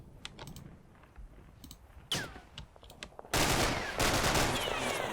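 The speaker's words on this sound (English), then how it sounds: "Ah, somebody's shooting back." Gunfire in the Combat Mission: Black Sea wargame, faint scattered clicks and shots at first, then a sharp crack and a loud sustained burst of heavy firing that fills the last seconds.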